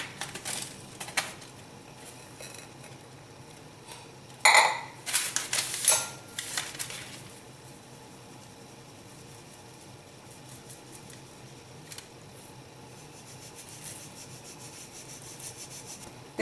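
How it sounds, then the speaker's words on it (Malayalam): Cocoa powder, flour and baking powder sifted together for a Black Forest cake, a soft steady rasping and rubbing with a louder scraping, clattering burst midway, no talking. "1/2 ടീസ്പൂൺ ബേക്കിംഗ് പൗഡർ കൂടെ ഇതിൻ്റെ കൂടെ ചേർത്ത് ഇതെല്ലാം കൂടി നമുക്കൊന്ന് ഇടഞ്ഞെടുക്കാം."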